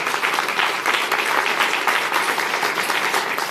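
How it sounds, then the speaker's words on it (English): A crowd claps steadily in a full, even round of applause that holds at the same strength throughout. "Let's give her a round of applause."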